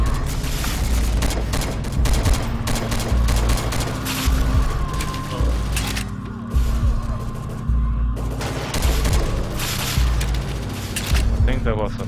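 Rapid gunfire and booming shots from the zombie shooter game BrainBread 2 run continuously at high level, with bursts and explosions layered over game noise while a voice talks underneath.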